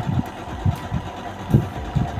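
Toyo Singer sewing machine stitching a buttonhole automatically, a steady mechanical hum with rhythmic low thumps of the needle repeating about every half second, close and fairly loud.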